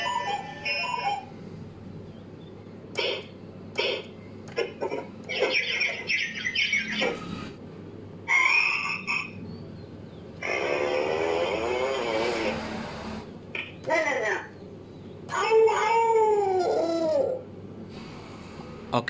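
A Talking Tom toy cat repeats speech back in a high, squeaky, warbling cartoon voice. The bursts come in short, uneven phrases with gaps between them, loud and close.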